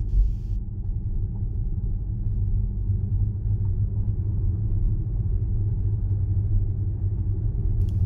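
A Tesla on Full Self-Driving Beta rolls past a pedestrian walking in the center of the lane, giving a steady low road rumble and engine hum throughout with no braking surge, close and continuous, no voices.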